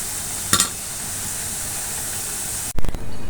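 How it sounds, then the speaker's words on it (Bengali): Mango malpua batter cakes frying in hot oil, a steady soft sizzle with a brief clatter early on and a louder clatter of utensils near the end as pieces are lifted out. "যেগুলো ভাজা হয়ে গেছে একটি একটি করে উঠায় নেব"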